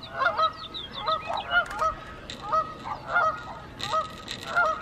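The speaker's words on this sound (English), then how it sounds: "The geese are walking on our trail right now." Geese walking along a trail honk repeatedly in short, evenly spaced bursts, moderately close, with chirping birds and outdoor ambience underneath.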